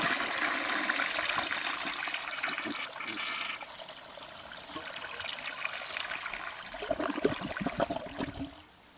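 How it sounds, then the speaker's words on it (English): A 1966 Mansfield Simplex toilet flushes with simulated toilet paper in the bowl, a steady rushing of water that thins to trickles and gurgles as the tank refills, heard close up. "I did a test flush with the rest of that simulated toilet paper, and it reluctantly went down"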